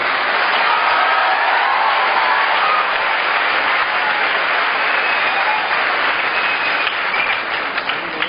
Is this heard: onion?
no